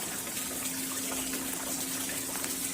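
Clear water flows steadily at Ramatirtha temple in Belagavi, a constant close gushing rush with no voices.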